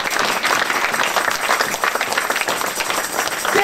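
A church congregation applauding during a French-language service, steady and sustained loud clapping from many hands with no break.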